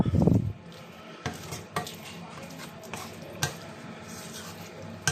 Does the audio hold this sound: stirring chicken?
yes